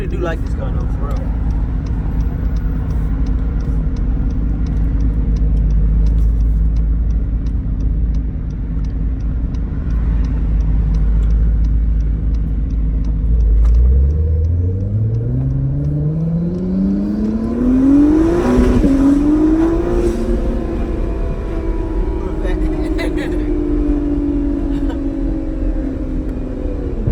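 A twin-turbo Acura NSX holds a deep, steady engine rumble, then accelerates with a rising, climbing rev that peaks and levels off into a sustained higher drone; voices are faintly present.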